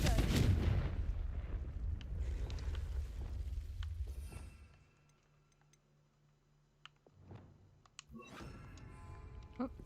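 Confringo fire spell blast in Hogwarts Legacy: a loud booming burst at the start that rumbles and fades over several seconds, followed by quiet ticking and small clicks.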